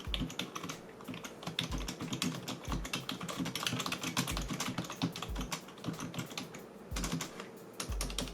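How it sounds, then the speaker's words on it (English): Rapid, steady typing on a Logitech MK270 keyboard, close and clicky, with keystrokes in continuous quick bursts and no voices. "Okay, so now it's time for a typing test."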